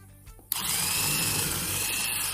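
A vintage Black & Decker electric drill whirs to life with a sudden start, then runs steadily at a high, buzzing pitch close by.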